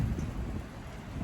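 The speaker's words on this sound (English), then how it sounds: "It's very, very windy" Strong wind ahead of severe weather buffets the microphone in a steady, low, rumbling roar, with gusts thudding heavily throughout.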